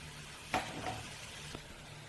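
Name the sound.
masala being sautéed in a pan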